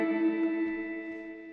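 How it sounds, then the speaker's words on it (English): Electric guitar played hard through a clean, slightly bassy, reverb-laden tone that starts to break up, a sustained ringing chord with bright overtones slowly decaying, close and alone. "if I dig in, it breaks up a bit, and that's what I like"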